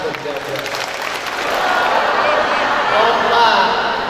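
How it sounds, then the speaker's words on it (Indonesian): Audience at a Social Affairs Ministry visit to a people's school in Kediri gives a round of applause, a broad continuous clatter of clapping that swells slightly toward the end, with crowd murmur beneath. "Tepuk tangan."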